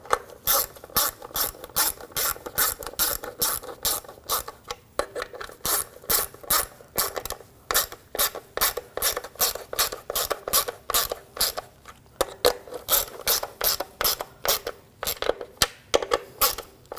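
Rapid clicking ratchet strokes tightening the oil level sensor nuts on a 2006-2009 Audi S4, close and loud in steady repeated bursts with brief pauses between runs.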